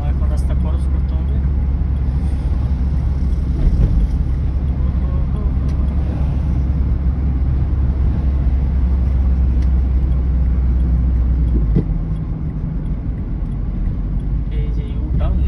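Car driving on a road in Abha, Saudi Arabia, its steady low engine and road rumble continuing throughout and easing slightly near the end, close and moderately loud.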